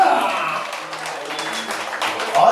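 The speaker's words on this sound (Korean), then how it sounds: "박수 소리가 너무 작은 거 아닌가?" Thin, scattered applause from guests at a baby's first birthday party, a short, modest patter of clapping that stays fairly quiet throughout.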